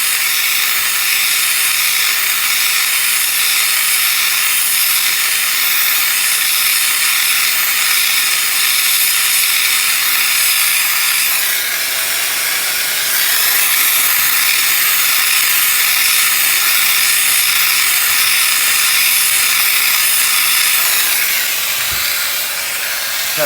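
A torch heats the rusty caliper bracket where a seized slider bolt passes through it, giving a loud, continuous roaring hiss that stays steady throughout, with a brief change in tone partway.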